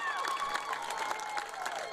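Football fans cheer and clap in the stands at a college game between Iowa Central and Iowa Western, a lively crowd roar heard at a distance with shouts rising through it and an announcer's voice over the top.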